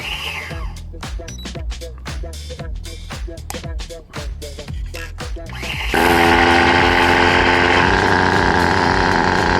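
A carbon fiber nitro RS4 RC car engine is spun with a starter box in short repeated bursts, then catches and runs continuously, loud and close, on a fresh cold start.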